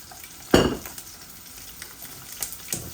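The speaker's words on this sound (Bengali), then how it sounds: "এগুলাও বাজিমু আস্তে আস্তে। অল্প তেলও বাজিমু" Minced meat patties (kima bora) shallow fry in a little oil in a pan with a soft, steady sizzle, broken by one sharp utensil clank and a few light clinks later.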